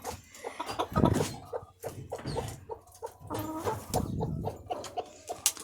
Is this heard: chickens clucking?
yes